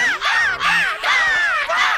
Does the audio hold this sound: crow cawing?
yes